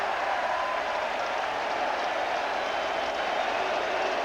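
A stadium crowd at a baseball game at Shea Stadium roars and applauds a high drive to right field, a dense, steady wash of cheering that holds for several seconds.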